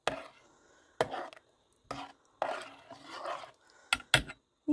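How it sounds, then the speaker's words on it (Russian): Spoon scrapes and knocks against a pot while mushroom soup with potatoes is stirred, several short close clattering bursts separated by brief quiet gaps. "Размешаем немножко."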